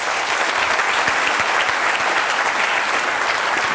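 An audience in Washington, D.C., in 2006 gives loud, sustained applause welcoming General Colin Powell to an evening event, with dense clapping from many hands throughout.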